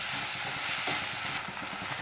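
Chicken curry with curry leaves frying in a pan while being stirred, a steady close sizzle with repeated soft scraping strokes throughout.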